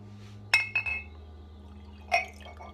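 Tea, a dandelion and rosemary brew, pours into a glass, giving a few brief clinks and splashes of liquid against glass in quick bursts over a quiet background, with no speech.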